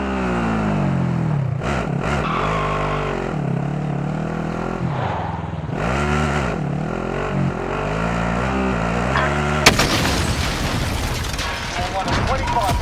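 An engine revs and shifts as a vehicle is driven in Call of Duty Warzone, rising and falling in pitch, with a sharp impact near the end and a voice talking over it.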